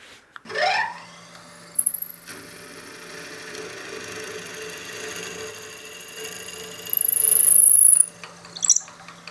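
A power drill bores into the wooden body of a turned whistle, a brief rising whine at first, then a long sustained high-pitched spinning run with rapid rattling chatter in the middle before stopping.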